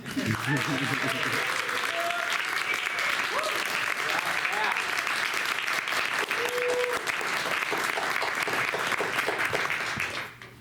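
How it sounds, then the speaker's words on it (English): Sustained audience applause at an MFA final thesis reading, dense and steady for about ten seconds before tapering off at the end, with faint voices mixed into the clapping. "let's just have another round of applause"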